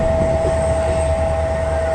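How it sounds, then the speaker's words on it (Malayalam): WCAM3 electric locomotive rolling toward the trip shed, heard as a loud, steady drone with a bright, sustained electrical whine over a low rumble, with no voices. "21941 WCAM3 ട്രിപ്പ് ഷെഡിലോട്ട് പോകുന്നു പണി കഴിഞ്ഞിട്ട്"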